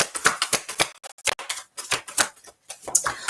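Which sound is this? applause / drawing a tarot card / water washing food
drawing a tarot card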